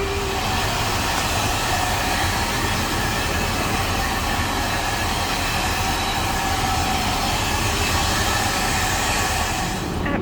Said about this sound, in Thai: เดี๋ยวไปเป่าผมก่อนนะคะเขามีที่เป่าผมให้ด้วย